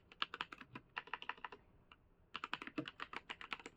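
Quick bursts of close keystrokes on a computer keyboard while a frame name is typed, with a brief pause midway before a second rapid run of clicks; no voices.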